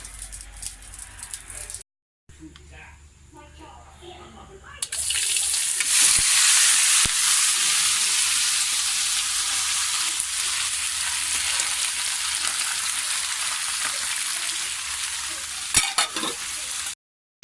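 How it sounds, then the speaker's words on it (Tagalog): Pounded meat for sisig fries in a pan over low heat. A short quieter stretch gives way to a loud, dense, continuous sizzle that lasts to the end, with occasional faint clinks. "habang piniprito ko, inalagyan ko na din yung sauce ng sisig sa kabila"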